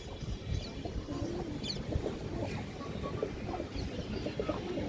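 Pigeons, including Gorra hens, coo softly in a loft or market among fancy and high-flying breeds, low murmuring calls recurring over a busy ambient background with no clear speech.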